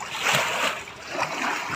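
Sea waves wash and splash close by at a beach resort, a continuous rushing hiss with small surges, no voices.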